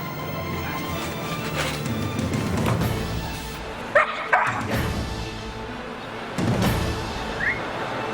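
Police sniffer dog barking and yipping during a drug search, a few sharp, close barks spaced apart over a steady busy background.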